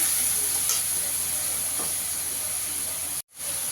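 Spice paste of ginger and garlic sizzling in hot oil, a bright continuous hiss with a few stirring scrapes, cut briefly by a sudden drop near the end.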